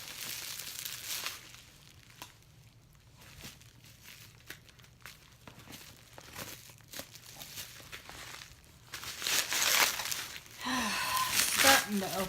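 Stubborn plastic packaging of a diamond painting kit is torn and crinkled open, bursts of crackling and ripping growing louder toward the end, with a voice speaking over parts of it.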